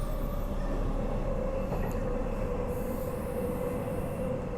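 Transperth B-series electric passenger train, unit 6109, running on the Joondalup line: a steady, loud interior rumble with a constant motor whine, faint squeals from the wheels and no talking.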